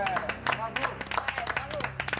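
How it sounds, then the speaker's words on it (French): Studio audience clapping on the Fort Boyard television show set, scattered and uneven hand claps mixed with overlapping talk and background voices. "vous applaudissez en plus"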